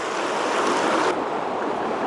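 River rapids rush loudly and continuously close to the listener during summer fly fishing for cutthroat trout in Wyoming, a dense broadband water roar that softens slightly partway through, with no voices.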